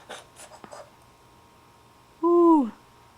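A young child imitates an owl's hoot with a single rising-then-falling vocal "ooh" lasting about half a second, clear and close, after some faint earlier voice sounds.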